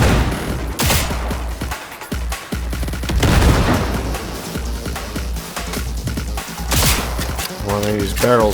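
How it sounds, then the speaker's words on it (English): Barrel explosions and gunfire in Cyberpunk 2077, with loud booms and dense bursts of shots layered over game effects, close and continuous, with a voice talking over parts of it. "One of these barrels blowing up right next to me."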